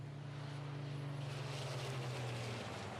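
A loud, steady roar of six-cylinder race car engines running on renewable HVO fuel at the Slovakia Ring during qualifying, a low droning pitch that swells slightly as they pass at speed, with no voices.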